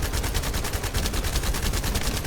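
Thunder Cage weapon in The First Descendant firing a steady, rapid stream of shots, a dense continuous rattle of gunfire that runs loud and close for the whole stretch with no talk over it.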